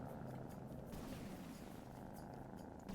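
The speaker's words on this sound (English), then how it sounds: "I've never noticed that they purr." Soft, low purring from creatures in the video game Hades, a steady faint rumble that continues unbroken with no talking over it.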